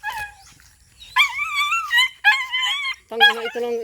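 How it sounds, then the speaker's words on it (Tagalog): Playful dogs at a rural hut whine and yip in excited, high-pitched bursts, several close-up cries separated by short pauses, with faint background noise between them. "Ayun na, guys, yung mga aso kong makukulit."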